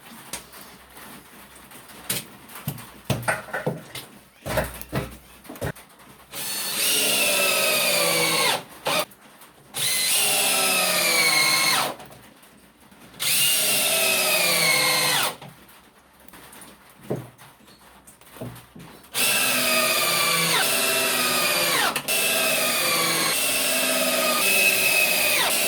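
Power drill driving screws into timber for a bunker elevator build, with a few knocks and handling clatter first, then several long, loud whirring bursts separated by short pauses, close by and without talk.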